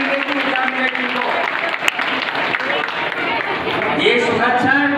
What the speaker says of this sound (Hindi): जरा पुरस्कार मिल रहा है, हाथ ताली बजा दीजिए।